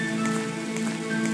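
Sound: rain in the video game I Remember The Rain

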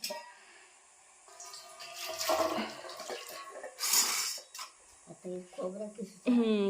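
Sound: water poured, washing coriander

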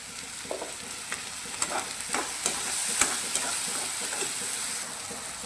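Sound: tomato puree frying in spiced tadka, stirred

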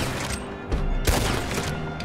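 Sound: gunfire from the video game Red Dead Online

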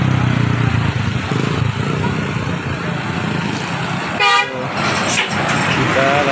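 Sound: bus telolet horn honking

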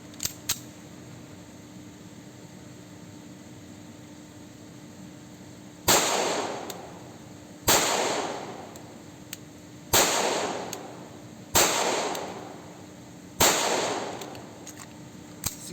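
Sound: Sig Sauer P226 pistol gunshots at shooting range

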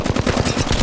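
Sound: gunfire from a shot taken in Apex Legends Mobile video game

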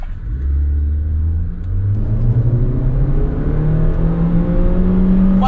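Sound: Honda Civic and Toyota Corolla Grande cars accelerating in drag race

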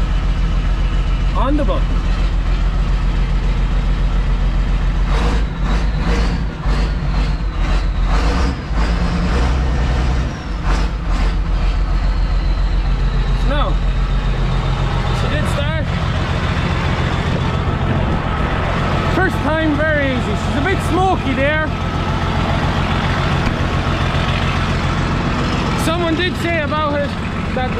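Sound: farm diesel engine starting and idling

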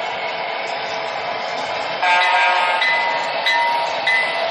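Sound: MTH model train running down the track

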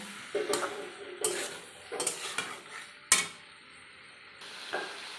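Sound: stirring and sautéing cucumber in a pan

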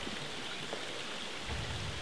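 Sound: small waterfalls flowing into a stream

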